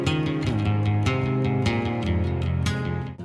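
A guitar with detuned strings played in a steady strummed pattern, loud and close, rich sustained chords with repeated strum attacks and no talking.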